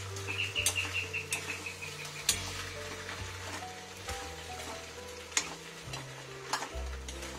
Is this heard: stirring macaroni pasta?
yes